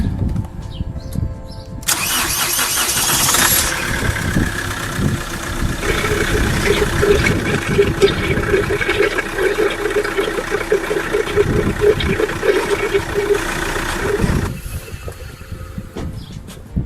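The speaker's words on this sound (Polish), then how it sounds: "Teraz odpalę silnik." A Chevrolet Captiva engine cranks and catches after a short pause, then settles into a steady idle close by for several seconds before cutting off near the end.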